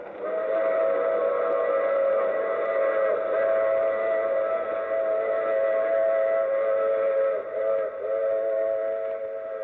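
A steam train whistle blows in a long, steady, sustained tone over the continuous rumble of the train, loud and close, with a brief dip near the end.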